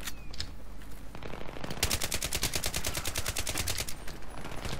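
Scar-H rifle fire in Battlefield 3: after a few scattered shots, a dense rapid automatic burst rattles steadily for about three seconds, loud and close, then trails off into sporadic shots.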